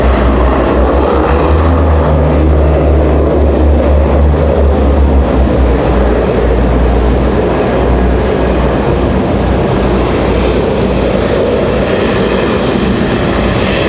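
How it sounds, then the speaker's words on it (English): A Mountain Air Cargo ATR turboprop at an airport, a loud continuous engine drone and broadband roar that stays steady and close throughout, with no voices. "So there's Mountain Air Cargo from ILM, the smaller of the two ATRs."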